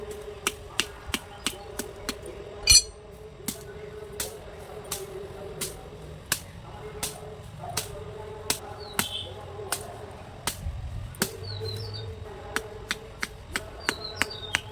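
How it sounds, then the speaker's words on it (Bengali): A coconut-leaf broom is beaten over and over to tighten its binding, producing a steady series of sharp, dry knocks at an uneven pace, close by, over a faint background hum. "এইভাবে পিটিয়ে পিটিয়ে গুজিটা ভেতর দিকে দিয়ে টাইট করে নিতে হবে ঝাড়ুটা"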